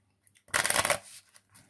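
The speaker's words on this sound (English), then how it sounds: "We give these a shuffle." A deck of playing cards is shuffled once up close, a quick crisp riffle lasting about half a second, followed by a few soft taps and handling sounds.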